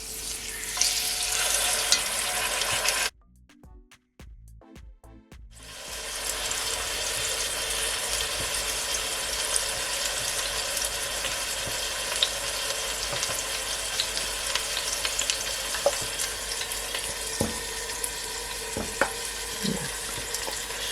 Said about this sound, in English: pot I add at least 2 tablespoons of oil. I'm gonna add my chicken.